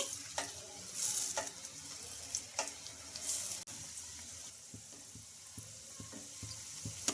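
Hot oil poured over a fried snack on a plate crackles and sizzles softly, with scattered pops and faint splashing at close range.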